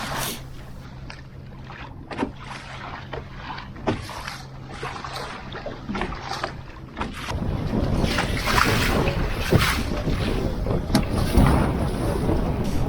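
Strong wind buffets the microphone while sailing a GP14 dinghy, with a steady roar that grows louder partway through, mixed with splashing water and rushing spray against the hull.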